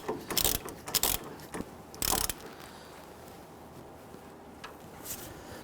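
A ratchet tightens a control arm bolt on an Infiniti G37, giving a few quick bursts of clicking strokes close by, then a quiet stretch with one or two faint clicks.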